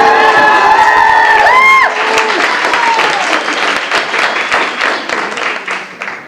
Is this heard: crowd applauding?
yes